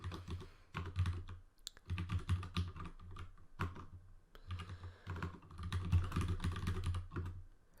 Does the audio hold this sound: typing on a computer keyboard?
yes